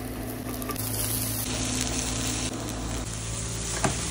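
Potato and vegetable filling fries in a stainless steel pan, giving a dense, even sizzle close to the ear that carries on without a break and with no talking.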